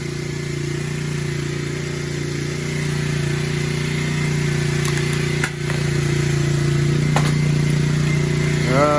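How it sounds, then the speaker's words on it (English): A 2009 Kawasaki KLX250S motorcycle engine idles steadily up close, a loud even single-cylinder putter holding constant throughout with a brief dip midway and no talk. "Yeah, she is idling just fine."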